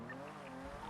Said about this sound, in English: I just heard another speeding vehicle on the south structure